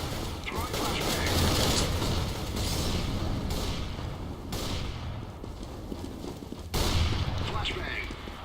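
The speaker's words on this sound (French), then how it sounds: "Throwing flashbang." A flashbang grenade goes off in a Counter-Strike: Global Offensive match, its bursts standing out against a dense, loud mix of gunfire and mechanical game noise, with players talking over it.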